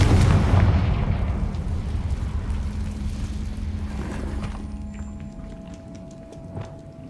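A Confringo fire spell detonates in a cave in the Hogwarts Legacy video game, with a loud deep boom at the start that rolls into a long, fading rumble. Faint debris clatter follows near the end.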